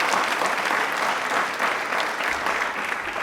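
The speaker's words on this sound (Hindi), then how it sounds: "लेकिन तालियां एक बार जोरदार हो जाए वापस से" A studio audience at a Rajasthan TV quiz show claps loudly and steadily throughout, a thick, even wash of hands with no break.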